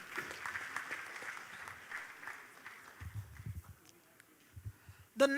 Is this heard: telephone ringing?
no